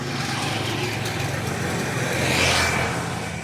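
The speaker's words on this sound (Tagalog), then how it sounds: "Mga dumadaan dito, tricycle," Steady traffic of tricycles and motorcycles passing on a residential street beside a school, a continuous engine drone that swells as one vehicle goes by close.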